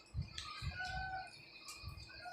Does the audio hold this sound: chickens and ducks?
yes